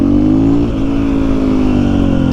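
A KTM XR80 dirt bike engine revs hard and holds at a high, steady pitch, loud and close with a brief dip partway through.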